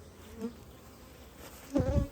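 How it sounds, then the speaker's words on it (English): Steady low insect buzzing from many honey bees around hives fills the air, swelling louder near the end as bees pass close by. "Bees are busy, check them out."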